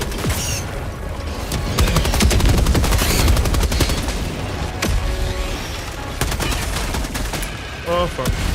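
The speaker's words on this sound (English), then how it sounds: "I need to get a machine gun." Rapid bursts of machine gun fire from the video game Helldivers 2, loud and close, mixed with booming explosions and chaotic combat noise, with a voice talking over the shooting.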